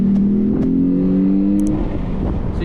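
A lowered Jeep on 22-inch wheels with a K&N cold air intake accelerates hard, the engine roaring and rising steadily in pitch up close with a loud intake howl.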